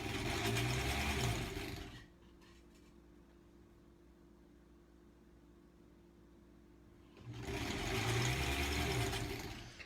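A beltless sewing machine, driven by one wheel rolling against another, stitches a granny-square quilt block in two bursts, a loud steady motor whir that drops to a faint hum in between.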